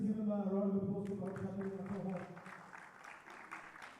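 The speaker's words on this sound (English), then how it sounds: "Please just give him a round of applause" An audience at a compliance management workshop breaks into soft, scattered applause that rises after a spoken introduction and continues lightly, fairly distant and quiet.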